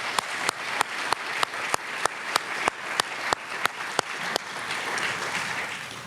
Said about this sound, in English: another round of applause for the Chancellor.